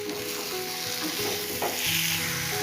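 Elephant foot yam being sautéed with spices in a pan, a steady loud sizzle with continual stirring and scraping throughout.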